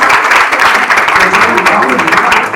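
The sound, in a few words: audience applauding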